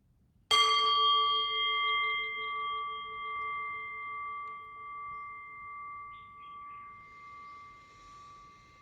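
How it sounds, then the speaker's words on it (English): A meditation bell is struck once, ringing out with a clear bright tone and long sustained harmonic overtones that slowly fade over several seconds in a quiet room. "So I'll ring the bell"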